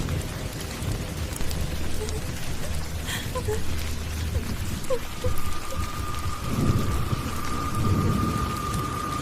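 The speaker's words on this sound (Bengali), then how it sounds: "এদিকে বৃষ্টিও থামছে না" Heavy rain pours steadily through a thunderstorm, with low rumbling thunder rolling underneath and a faint steady tone emerging partway through; the downpour stays dense and continuous throughout.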